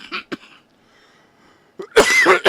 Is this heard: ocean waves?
no